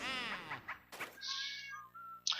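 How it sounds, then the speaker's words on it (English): A cat meows in the background during gameplay of Luigi's Mansion, a drawn-out harmonic cry at the start followed by a further short call, with a bright electronic game tone sounding partway through. "please ignore that cat in the background"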